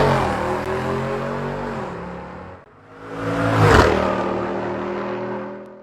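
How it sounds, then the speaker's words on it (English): A V8 engine revving in open country, a loud sustained roar that rises in pitch, dips briefly near the middle, then climbs again to a strong peak before easing off. "the notorious sound of a V8 engine kind of just revving in the background"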